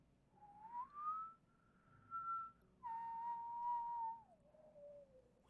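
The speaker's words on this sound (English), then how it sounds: "like a whistle tone going through this wind" An eerie whistle tone drifts through faint wind in a cavern ambience for a fantasy tabletop game, a thin pure pitch that glides up, holds, steps down and slides lower in long phrases, quiet and alone.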